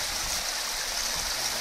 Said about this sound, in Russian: Здесь перекатик.